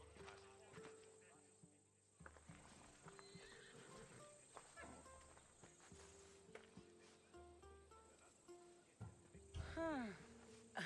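Horses from the Assassin's Creed Odyssey video game whinny and clop their hooves beneath steady in-game dialogue, with a rising neigh near the end over background music and ambient insect chirps.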